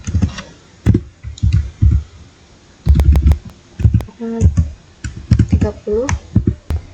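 Computer keyboard keys clacking in quick irregular bursts as an IP address is typed in, loud and close, with someone speaking between and over the keystrokes.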